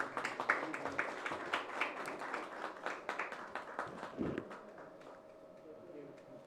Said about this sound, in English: Loud round of applause, ladies and gentlemen.